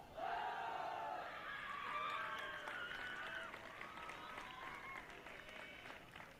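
School football team shouting a rallying cheer before an under-17 final, a burst of many young voices chanting together, loud at first and then fading into crowd noise and scattered applause.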